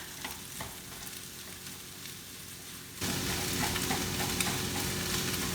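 Golden fried rice sizzles steadily in a pan while being stirred, with a soft crackling frying hiss that jumps noticeably louder about halfway through.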